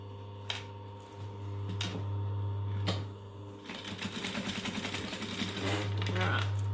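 A sewing machine runs in a fast rhythmic stitching patter while top stitching a fabric clutch, following a few sharp handling knocks at close range, with a voice heard speaking.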